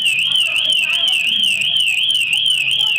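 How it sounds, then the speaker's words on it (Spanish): A loud, continuous electronic alarm with a steadily warbling high-pitched tone sounds close and unbroken throughout, with a voice talking faintly underneath. "hasta la alarma despertó en Colombia"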